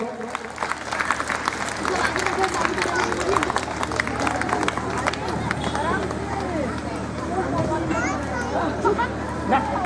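Audience at a school function applauding in a dense, continuous patter of claps with crowd murmur and voices mixed in throughout.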